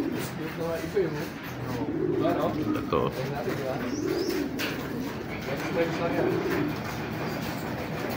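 Pigeons coo repeatedly in low, throaty bursts, close by, with faint chirps and background noise around them.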